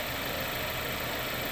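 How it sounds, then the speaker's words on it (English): A Suzuki Forenza car engine idles smoothly and steadily close by, a constant low hum with a fine rapid pulse and no talking. "it seems to be idling real smooth"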